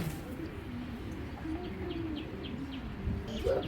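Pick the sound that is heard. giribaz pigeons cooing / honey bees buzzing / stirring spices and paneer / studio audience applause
giribaz pigeons cooing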